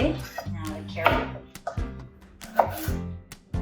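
A knife chops a carrot on a cutting board for a lumpia recipe, giving a quick series of sharp, close knocks in an uneven rhythm, about a dozen strikes with brief pauses between bursts.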